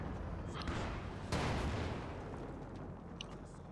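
Dense, rumbling battle din from a Company of Heroes game, with tank cannon and gunfire blending into a constant roar and one sharper blast standing out partway through; no voices.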